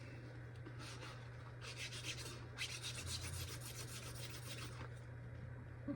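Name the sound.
magic eraser rubbing PS2 memory card pads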